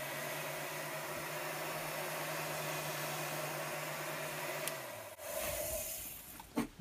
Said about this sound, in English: This is actually a heat shrink gun for aviation use mechanics.